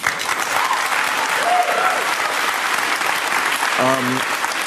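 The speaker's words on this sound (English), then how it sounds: "Listen to the applause, man." A live audience breaks into strong, continuous applause, a dense and even roar of clapping that holds for the whole stretch, with a brief tonal sound near the end.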